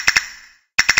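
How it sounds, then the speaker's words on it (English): Castanets played as a musical instrument, two quick sharp clicks, a brief pause, then three more bright clicks in a row, close and crisp with no talking. "You found castanets."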